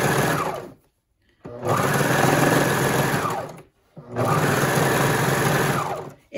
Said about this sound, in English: So I use the serger.